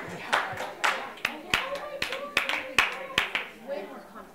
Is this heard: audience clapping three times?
yes